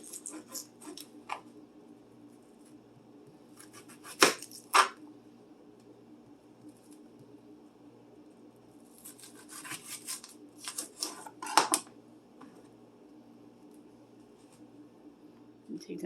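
A kitchen knife chops off both ends of an onion on a cutting board, giving a few sharp, separate cutting knocks in a quiet room with light rustling between them.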